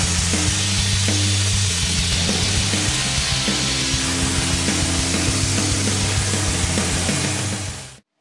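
A vapor honing machine blasts gasket residue off an engine valve cover, producing a loud, steady hissing roar with a low mechanical hum underneath that runs throughout, then cuts off abruptly at the very end.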